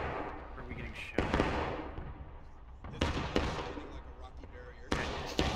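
Gunfire in the Civil War shooter War of Rights, during a 51st PA IX Corps match: sharp musket cracks at a few points, spaced irregularly over a steady ambient bed, while a voice talks in the background.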